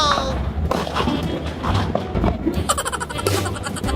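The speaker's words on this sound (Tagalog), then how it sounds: "Yung ganyan, may fireworks." New Year fireworks go off in a string of booming thumps and crackling bursts, some close and some farther off, with voices faintly in between.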